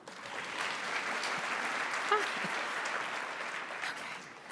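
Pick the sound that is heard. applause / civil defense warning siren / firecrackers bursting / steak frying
applause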